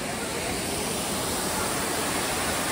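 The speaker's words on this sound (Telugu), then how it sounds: "వాటర్ ఫాల్ చూడండి." Steady, dense roar of Elephant Falls waterfall in Shillong, Meghalaya, a constant broadband rush of falling water filling the scene at close range without a break.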